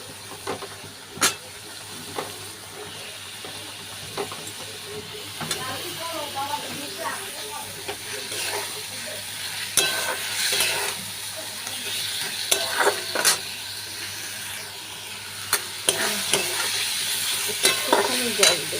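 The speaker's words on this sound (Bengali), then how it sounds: "এর মধ্যে এবার মাছ দিয়ে দেবো।" Fish frying in a pan for Bengali macher jhal, a hissing sizzle building steadily with scattered sharp clinks and spatter pops, a voice briefly audible at times.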